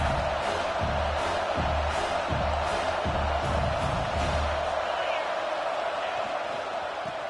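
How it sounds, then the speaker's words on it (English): Stadium crowd noise from a college football video game, South Carolina home crowd, a steady loud roar filling the whole clip with some rhythmic thumping early on, heard under a commentator's talk. "how nice is it to have the home crowd going absolutely bananas?"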